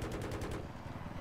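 Rapid automatic gunfire from the video game Battlefield 3, a fast burst of loud shots that cuts off after about half a second, followed by a lower rumbling tail of battle noise.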